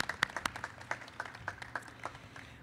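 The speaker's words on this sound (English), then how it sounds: "Yeah, let's clap." A small faculty convocation audience claps in a modest, uneven patter of distinct claps at close to moderate distance, sparse rather than a full roar, with no voices.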